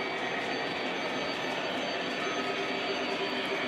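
A Lionel or MTH model decapod steam locomotive runs on a layout, giving a steady, continuous rumble and rolling rail noise at moderate distance, with no talking.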